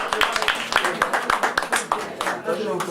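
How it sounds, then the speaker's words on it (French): Brisk clapping from a small group, sharp irregular claps running steadily for a few seconds, fairly close. "On l'applaudit."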